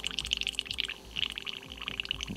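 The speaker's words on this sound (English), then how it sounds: "you can obviously use your finger and blow through so it bubbles" Air blown back through a BD-130 airbrush makes cleaner bubble, a quick run of small gurgling pops and splutters that is close and fairly quiet, continuing with a short pause midway.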